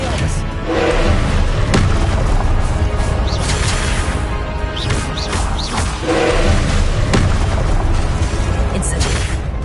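Confringo fire-blast spells from the video game Hogwarts Legacy burst in heavy, booming thuds over a dense, continuous battle din, with several impacts spaced across the scene and spell-casting voices heard at times.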